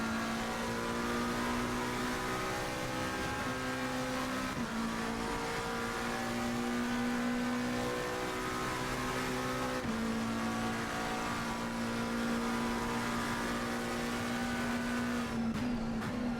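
A McLaren race car engine in a racing video game drones loudly and steadily, pitch rising and falling through gear changes as it laps, heard alone without talk.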